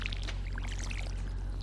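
Splashy water pours from a watering can onto potato crops in the farming video game Stardew Valley, a short steady sprinkling burst over a low constant hum, with no talking.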